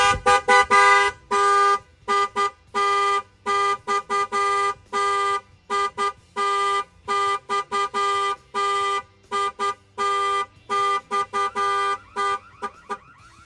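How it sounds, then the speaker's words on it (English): A loud car alarm on a 1999 Ford Mustang blares nearby in repeated honking bursts with short gaps, the pattern shifting rhythm as it cycles. "I'll show you guys the alarm alert when the alarm fires off."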